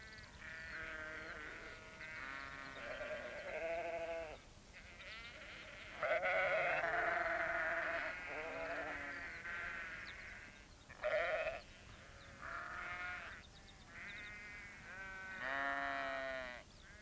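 Sheep bleat repeatedly, several overlapping calls at varying distances, with quiet pauses between them and no talking.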